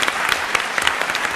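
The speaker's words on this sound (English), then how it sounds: "ask for another round of applause for Robert Rosenkranz, and there it is." Crowd applause at an Intelligence Squared U.S. debate on Islam, a loud, continuous burst of clapping with sharp individual claps poking through, lasting over a second.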